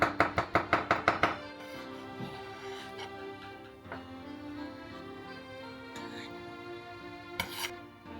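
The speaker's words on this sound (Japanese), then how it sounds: "あとは包丁で叩いてペースト状にしましょう。" A kitchen knife taps rapidly on a board, about seven sharp, evenly spaced chops as pickled plum and onion are pounded into a paste, followed by soft background music.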